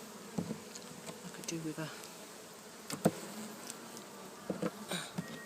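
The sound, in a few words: honey bees buzzing at top bar hive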